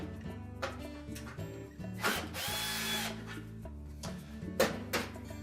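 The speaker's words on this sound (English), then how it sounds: "remove 2 screws on either side of that short panel across the top" A power drill whirs in several short bursts with one longer run, removing screws from a short top panel on a Whirlpool range, close up and fairly quiet with gaps between the bursts.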